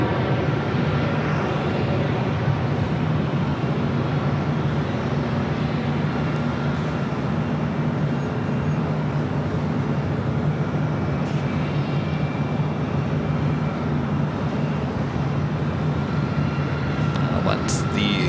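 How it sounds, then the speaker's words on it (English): United Airlines Boeing 787 Dreamliner arriving from Hong Kong on approach to Los Angeles International Airport, a continuous broad jet engine roar with low rumble that stays steady throughout, with voices talking over it. "It's Dreamliner."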